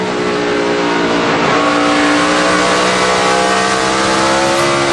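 NASCAR stock cars come off turn 1 at Watkins Glen during a race, their engines a loud, close, unbroken roar. Layered engine tones climb and overlap with no pause.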